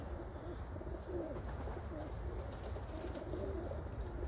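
Pigeons sold by a fancier, cooing steadily in a loft with a low, continuous murmur of soft coos and faint background noise throughout.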